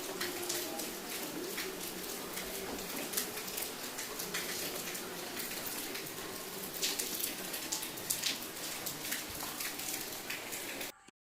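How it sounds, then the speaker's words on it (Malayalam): Steady rain falling outdoors on a wet day, a dense continuous hiss with scattered drop patter throughout and faint bird calls in the background, running evenly before stopping abruptly at the end. "ഇന്നലത്തെ പോലെ തന്നെ ഇന്നും മഴയാണ്"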